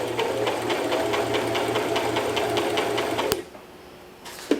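A Brother LX3817 sewing machine runs a straight stitch with a fast, steady mechanical whir and rhythmic needle clatter, then stops abruptly, followed by a faint click.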